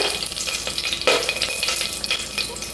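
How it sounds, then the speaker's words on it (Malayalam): Whole spices sizzle briskly in ghee in a pan for paneer biryani: cinnamon, star anise, green and black cardamom, cloves and bay leaf. The frying is close and continuous, with stirring scrapes and no voices. "ഒരു വഴണിയില എന്നിവ ചേർത്ത് വഴറ്റിയെടുക്കാം"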